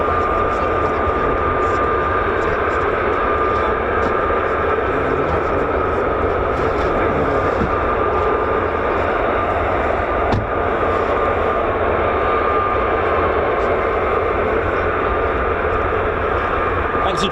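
Fighter jets, F-15s and F-35s, climbing away from a USAF fighter base at RAF Lakenheath, making a steady, loud broadband roar that holds throughout without letup.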